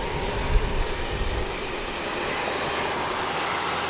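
An ATR turboprop airliner arriving from Hamilton at Wellington Airport, a loud broad roar of engine and rushing air that holds steady, with no voices.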